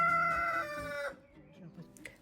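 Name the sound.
roosters crowing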